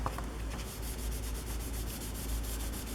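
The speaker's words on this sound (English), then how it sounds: "At least you know I'm getting the surface dirt off." An old Golden Book being rubbed clean of surface dirt, giving a steady, continuous dry scrubbing sound close up, fairly even in loudness throughout with no talking.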